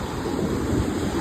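Steady wind at Moss Landing Beach, California, a continuous broadband rush buffeting the microphone, loud and unbroken with no voices.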